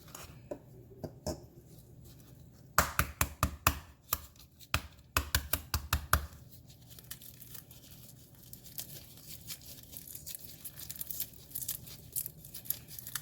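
Eggshells being peeled from cooled hard-boiled eggs by gloved hands: bursts of sharp crackling and tearing clicks, dense for a few seconds then scattered intermittent crinkles, close up with no talking.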